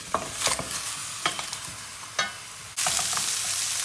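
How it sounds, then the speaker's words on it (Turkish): Loud, crackling sizzle of meat searing in a large hot pan, broken by several scraping stirs, then a sudden burst of intense sizzling. "Büyük bir tavayı aldım. Tavada mühürlüyorum."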